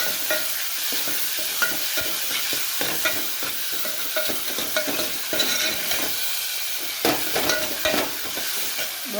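Chopped onions and tomatoes with salt frying in a pan for Bombay chutney, a bright, steady sizzle with frequent close scraping and clacking of a spoon stirring against the pan.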